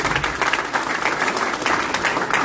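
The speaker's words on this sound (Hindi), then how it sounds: "तालियां हो जाए" Audience applause fills a Hindi poetry recital at a New Year kavi sammelan hosted by the Hindi Academy Delhi, dense steady clapping sustained throughout the moment without voices.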